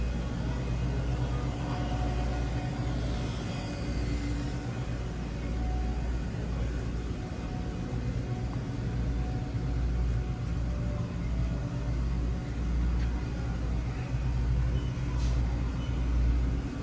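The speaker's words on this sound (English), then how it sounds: "Nice little old truck." A truck rolls past at an Interstate 80 truck stop, a steady low engine rumble with road noise holding for the whole stretch, moderately loud and continuous with no talk over it.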